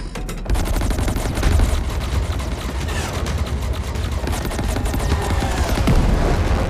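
Rapid spaceship weapon fire in the space combat video game Chorus, a dense, loud, continuous barrage of gunfire bursts and booms with no talking.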